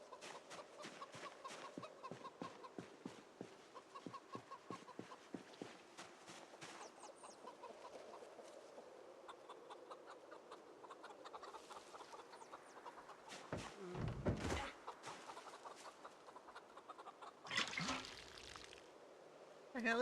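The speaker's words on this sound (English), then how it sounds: "Like we've got chickens growing in here." Chickens cluck in the survival game Project Zomboid, a busy run of short repeated calls through the first half with scattered fainter clucks later, all under ongoing game sounds and a few louder bursts.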